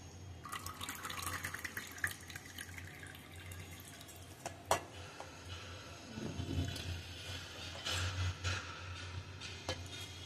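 Faint water pours and trickles from blanched spinach through a strainer into a sink, with a few clinks and splashes in a quiet kitchen.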